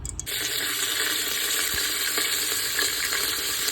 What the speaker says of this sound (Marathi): त्याच्यामध्ये आता थोडेसे जिरे आणि तेजपत्ता टाकून घेते मी